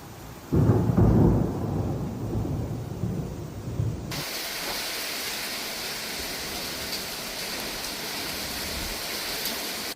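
A thunderstorm over Sydney, with a heavy rumble of thunder at the start and steady hissing rain that then carries on evenly, close and without voices.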